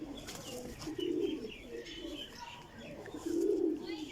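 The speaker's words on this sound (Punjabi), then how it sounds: "ਇਹ ਦੇਸੀ ਟੈਪ ਕਬੂਤਰ ਹੈ" A young desi tap pigeon coos softly nearby, two low, throaty burbling coos spaced a couple of seconds apart, with faint chirps in the quiet background.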